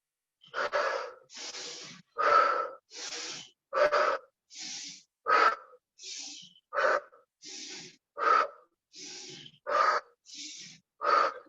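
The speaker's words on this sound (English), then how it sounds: "Strong exhale." Forceful rhythmic breaths during a yoga class, a long series of strong, sharp exhales alternating with inhales, close and clear with no talk over them.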